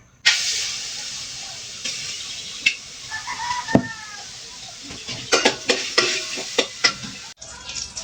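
Pork sizzles loudly in a hot frying pan with a steady hiss, while scattered clinks and scrapes of stirring pop up over it.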